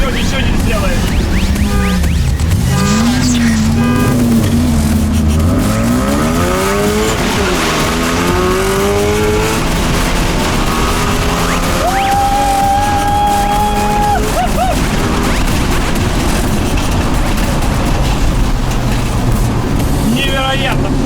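ZIL dump truck with a 600-horsepower engine drag racing a tuned Ford Mustang, engines revving and shifting loudly with rising whines, with continuous talk over the roar.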